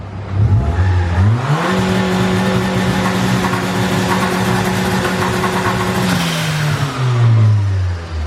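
Honda Civic with stock exhaust and a flex setup, its engine held on two-step launch control: a loud, steady bouncing rev near the limiter for several seconds, opening and settling from lower revs at either end.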